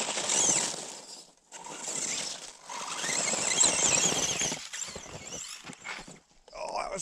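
A battery-powered dune buggy does a tire burnout, giving loud, shrill tire squeals that rise and drop in several sustained bursts, ending with clattering mechanical noise.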